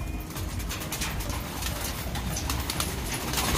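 Racing pigeons coo steadily in a loft among breeders and ring-necked doves, a dense layer of low murmuring calls close by with no talk.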